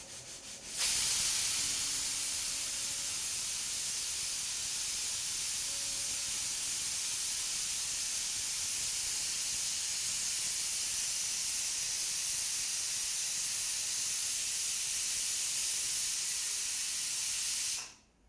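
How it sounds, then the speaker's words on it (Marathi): A pressure cooker holding spinach khichdi lets out a steady, loud hiss of escaping steam. It runs unbroken for about seventeen seconds before cutting off abruptly, with no one speaking. "इथे मी आता कुकरच्या शिटीची वाट बघत आहे"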